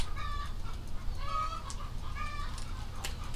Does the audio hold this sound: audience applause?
no